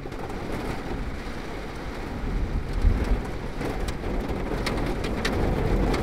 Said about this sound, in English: Maybe it's just large raindrops.